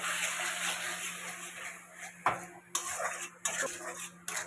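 Spices, tomato and part-boiled potato are stirred in a pan for a spicy fish curry, with a utensil knocking and scraping against the metal in sharp, irregular clinks over a soft background hiss.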